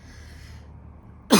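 A single short cough bursts out sharply near the end after a quiet stretch, close and loud, with no speech over it.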